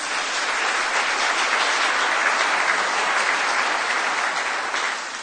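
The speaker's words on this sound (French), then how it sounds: "On vous salue d'ailleurs, on vous applaudit." Audience at a talk on holiness applauding in greeting to distant viewers, a dense, even wash of clapping that holds steady for several seconds and tapers slightly at the end, with no talk over it.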